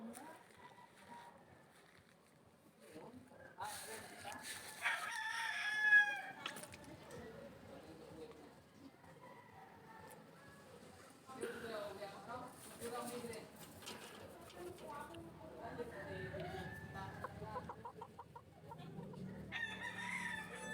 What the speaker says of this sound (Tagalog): At eto na nga yung mga bagong paligong manok.